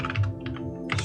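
Quick bursts of keystrokes on a computer keyboard, close and clear, a few irregular clusters of taps over a steady low electronic hum.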